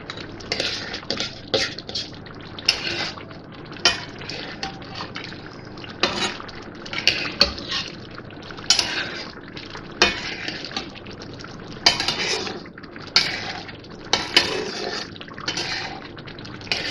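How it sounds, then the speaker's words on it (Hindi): Mutton being stirred and fried in ghee in a pan for a restaurant-style makhni karahi, with close, repeated scraping and clinking of a utensil against the pan over a steady low sizzle, continuing without talk. "घी डाल के इसको भूनेंगे।"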